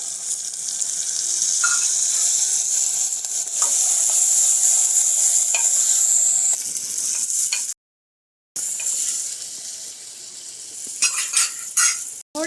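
Green chillies, curry leaves, onion and green black-eyed beans frying in oil for a village dhokli curry, a loud steady sizzle broken by a brief dropout, then scraping stirs and utensil clinks as the hiss softens.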